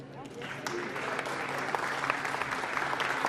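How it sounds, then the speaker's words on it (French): An audience at a fashion collection launch applauds the models, a warm burst of clapping that swells and holds steady, with a voice speaking over the start. "je voudrais qu'on applaudisse chaleureusement nos jolis mannequins"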